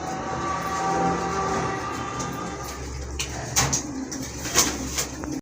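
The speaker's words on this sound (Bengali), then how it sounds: "আরেক জোড়া গড়া কবুতর" A pair of running pigeons offered for sale coo softly and low, close by, over a steady background hum with a few sharp clicks and taps.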